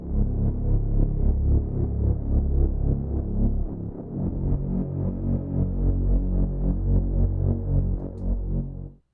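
A Scaler 2 synth bass treated with EQ, saturation and a trance gate pulses in rapid rhythmic chops, thick and low, running steadily for several seconds before stopping abruptly, with no voices.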